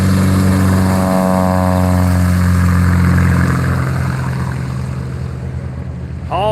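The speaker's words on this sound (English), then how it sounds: "Here's the big guns out now. 6-cylinder Maule." A six-cylinder Maule airplane's engine drones loudly during spot landing practice, its pitch sliding down over several seconds with heavy wind rush, and a brief rising whine near the end.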